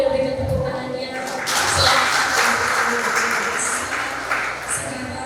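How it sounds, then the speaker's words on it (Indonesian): Wedding guests applaud in a steady, dense wash of clapping that swells midway and holds at a fairly loud level, with a few voices faintly mixed in. "Yang Bapak Ibu boleh berikan tepuk tangannya"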